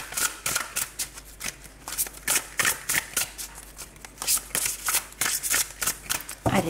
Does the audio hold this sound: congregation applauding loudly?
no